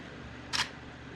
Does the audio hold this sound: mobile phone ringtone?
no